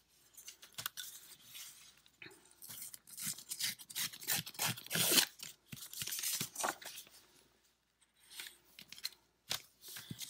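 Scissors snip through paper for a junk journal craft, giving close, crisp, irregular cuts and rustles in quick clusters with short pauses between them.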